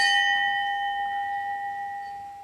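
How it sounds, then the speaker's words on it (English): A single bell tolls in a stage performance of Macbeth, one clear ringing strike with a long sustained hum that slowly fades, alone without speech. "A bell invites me."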